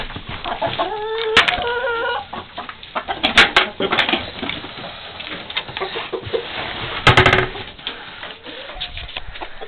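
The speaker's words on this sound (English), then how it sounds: "There's the chickens. Guess they're looking for me to give them something to eat" Chickens cluck and squawk nearby in bursts, with other bird calls and some rustling mixed in throughout.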